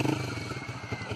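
An AKT Evo R3 150cc motorcycle with its silencer fitted revs briefly, giving a close, moderately loud, throaty engine burble with uneven pulsing.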